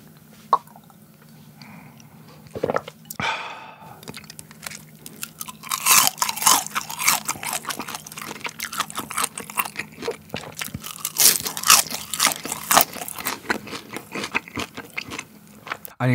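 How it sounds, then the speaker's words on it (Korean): Loud, crisp crunching of deep-fried pork intestines being chewed, with sharp bites and rapid crackly chews close to the ear, no talking. "이거 소리를 딱 들어보면 아시겠지만 진짜 바삭하게 튀겼잖아요."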